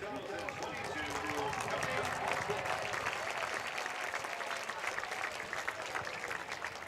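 Crowd applause in the stands at a high school homecoming varsity football game, a sustained wash of clapping and cheering heard from a distance, with voices mixed in.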